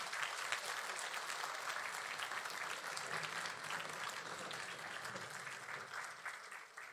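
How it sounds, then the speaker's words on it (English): Sustained applause from a forum audience honoring Mr. Ronnie Chan, dense and even clapping holding steady throughout before easing slightly at the end. "I think you would agree that deserves another round of applause."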